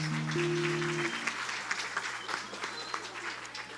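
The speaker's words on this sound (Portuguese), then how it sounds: "uma salva de palmas para todos os adolescentes" A Baptist church congregation applauds the adolescents on Adolescent Day, scattered individual claps growing into a looser patter as a sustained tone from a speaker or instrument fades in the first second; moderate and somewhat distant.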